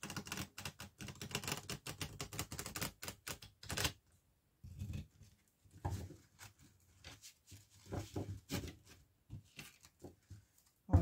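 A deck of tarot cards being shuffled by hand, close and crisp, in several bursts of quick clattering flicks separated by short pauses.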